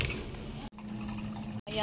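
Water poured into a new dog drinking fountain, a close trickling and splashing pour broken by two brief gaps, with no speech over it.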